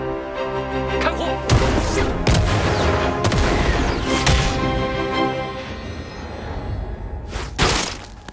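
Rifles fire in a firing scene, with sharp loud cracks near 1.5, 2.3, 3.3 and 4 seconds and another around 7.7 seconds. Low music plays underneath, and the echoing shots stand out above it.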